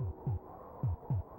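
A game heartbeat from Populous on the SNES pulses in low, muffled double thumps, four beats in quick succession over a faint steady hum.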